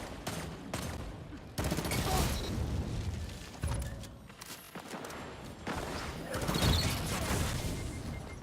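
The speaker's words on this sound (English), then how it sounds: "I somehow thought the 10 rounds in that burst was gonna kill him" Lord of Wolves burst fire in Destiny 2 PvP: several rapid, sharp multi-round bursts in close succession, loud and dense, separated by brief pauses and game noise.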